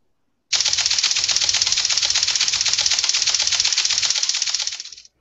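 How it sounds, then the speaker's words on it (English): News ticker tape sound effect for a tech news segment, a loud, fast, steady mechanical clatter of rapid clicks running continuously for about four and a half seconds, then fading out, alone without talk. "We recently swapped out the typewriter for a news ticker"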